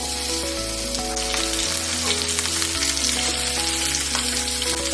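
Onions going into a little oil with cumin for green coriander vadi, sizzling steadily at close range with a faint hum running underneath, no voices present.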